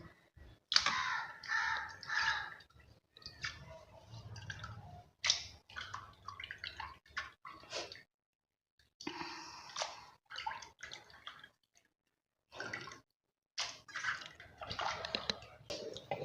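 Cleaned prawns being rinsed in a bowl of water while cooking, with repeated splashing and sloshing in short bursts broken by brief pauses, close and fairly loud.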